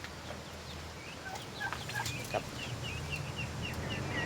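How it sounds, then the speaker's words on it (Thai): Young turkey poults in a pen give repeated high, thin peeping calls, several birds overlapping in quick chirps over a low steady background hum. "ไก่งวงตัวเล็กครับผม"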